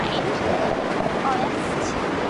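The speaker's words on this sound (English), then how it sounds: "the wind's just too strong that you can barely hear anything" Strong wind buffets a microphone on a beach in the film Birdemic, a steady broadband roar with faint surf beneath, drowning out any clear sound for the whole stretch.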